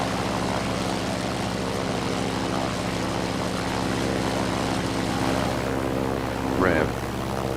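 Propeller engine drone of a Grumman F4F-4 Wildcat in Microsoft Flight Simulator, a steady loud hum held throughout, with a brief rising whine near the end.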